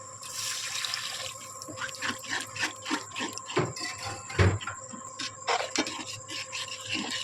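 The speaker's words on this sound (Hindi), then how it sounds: "अब मैं इसमें 1 गिलास पानी डालूंगी" Water splashes and trickles into a cooking pan of stuffed pointed gourd gravy in uneven bursts, with drips and clatter close by, and no talking.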